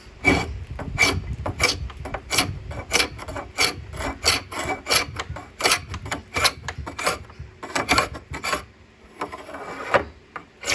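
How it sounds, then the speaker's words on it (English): Old finish scraped off a wooden meatsafe by hand, a loud, close run of rapid rasping strokes in a steady, fast rhythm with a few brief pauses. "easier scraping it off"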